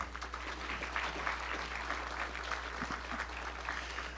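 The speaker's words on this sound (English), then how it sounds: "let's give them a round of applause as well, too" Summit audience giving a round of applause, steady and fairly faint, heard from a distance over a low electrical hum.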